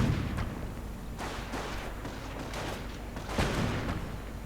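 Gunfire pours onto Panzergrenadier infantry in a war strategy video game, several sharp cracking bursts and booms landing in quick succession against a constant battle rumble.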